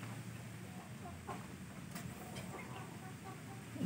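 Soft, low clucking from a Shamo chicken close by, a few brief calls over a steady background hum.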